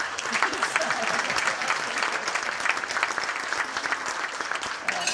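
An audience at a Salvation Army Groundhog breakfast gives a steady, dense round of applause, the clapping close and sustained throughout with a faint crowd murmur beneath.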